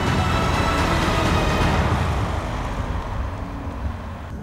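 Skoda Kodiaq full-size SUV driving over a bump, heard as a loud, steady rumble of road and wind noise from inside the cabin, easing slightly toward the end.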